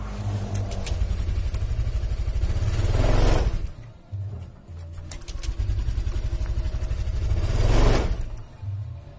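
A fuel-injected automatic scooter with a broken CVT pulley and no service history is revved hard and then stalls; the loud, close engine roar cuts out, picks up again and dies once more, with no talking.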